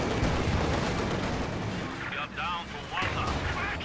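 A Panzer IV tank fires in a strategy video game amid a dense, continuous wash of battle noise, with booming shots running throughout and a voice talking over the action.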